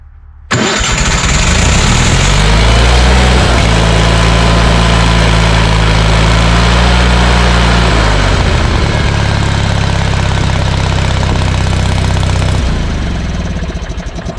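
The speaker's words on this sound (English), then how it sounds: "Okay, so that fixed the welder. Now she's turned over." A Lincoln Ranger engine-driven welder cranks and catches, then runs loud and close with a steady roar that drops in pitch and settles near the end, with no talking.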